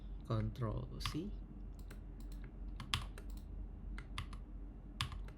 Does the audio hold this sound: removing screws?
no